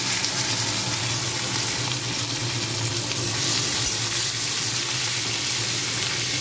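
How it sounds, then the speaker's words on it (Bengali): Washed, cut potatoes hit hot oil with cumin seeds over a raised gas flame, giving a loud, dense, continuous sizzle up close that holds steady throughout without any voices. "আলুটা দিয়ে একটু ভেজে নেব"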